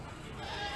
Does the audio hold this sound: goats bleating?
yes